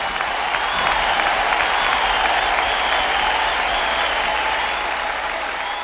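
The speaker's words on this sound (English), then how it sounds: "Let's give PlayStation a clap," Steady, dense audience applause with clapping and a light crowd murmur, continuous and fairly loud throughout, cheering the PlayStation gaming system at a live show.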